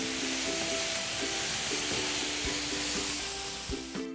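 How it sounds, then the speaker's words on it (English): Burgers coated in a Kona coffee rub sizzling on the heat, a continuous soft crackle and hiss, with a few faint tonal beeps and clicks over the top. "The burgers are done cooking"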